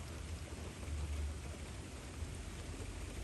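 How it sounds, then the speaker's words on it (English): Steady rain falls on a wet backyard near a pigeon loft, a dense even hiss with a low rumbling undertone, constant and unbroken for the whole stretch. "it's rainy anyways, so as you can see, everything's wet"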